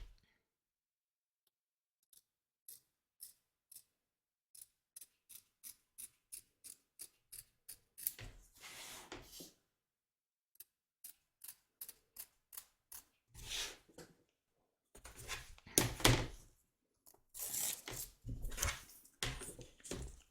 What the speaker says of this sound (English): we're going to cut down here, trim away the excess along here, and then straight over to here